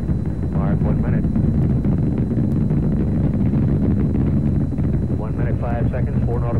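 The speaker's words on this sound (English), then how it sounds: "Thrust on all 5 engines" Saturn IB rocket engines thrust during the Skylab 1 launch as a continuous, dense broadband roar, with a broadcast voice speaking over the rumble.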